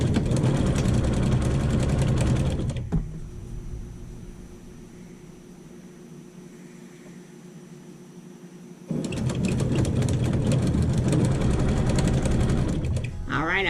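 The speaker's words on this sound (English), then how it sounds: "I'm sewing these together" A sewing machine stitches quilted table runner pieces together in loud, steady runs, stopping for several quiet seconds before starting up again.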